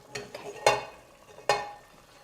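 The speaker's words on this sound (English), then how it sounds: "We add the herbs and then we stir it." A spoon stirs herbs into a stew cooking in a pot, giving three distinct scraping clanks against the pot with quiet gaps between them, close and fairly soft.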